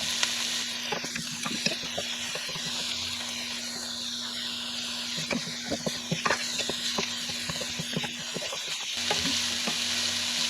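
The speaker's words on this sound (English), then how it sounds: "we're probably going to saute this for like 2 to 3 minutes. Get that nice smell and sizzle in there." Ingredients for baked ziti sauté in a pan with a steady, close sizzle and hiss, broken by scraping stirs and clinks of a utensil, with no talking.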